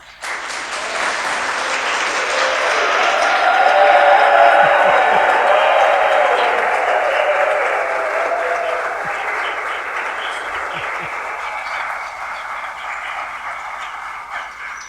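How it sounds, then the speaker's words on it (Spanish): A loud audience at a church meeting breaks into applause that swells to a peak and then slowly tapers off, a dense crowd of clapping lasting well over ten seconds. "todos nosotros les mandamos un aplauso"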